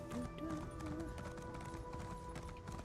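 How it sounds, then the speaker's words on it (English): Horse hooves gallop in a steady clip-clop rhythm in Elder Scrolls Online, moderately loud and continuous over game background music with a faint tonal hum. "I have a horse. Giddy up, horsey."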